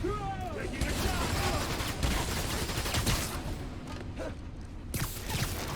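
Rapid gunfire bursts in the video game Marvel's Spider-Man: Miles Morales, dense and overlapping shots crackling steadily for several seconds against busy combat ambience.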